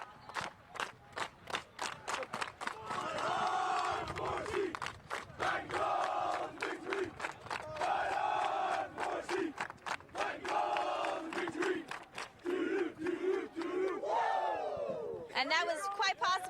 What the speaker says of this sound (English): that was quite possibly the biggest celebration cheer we've had all day